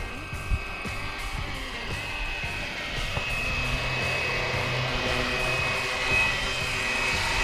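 A Flywing BO 105 RC helicopter flies with a steady, moderately loud buzzing rotor whine that holds level throughout the clip, with faint background noise and no clear speech.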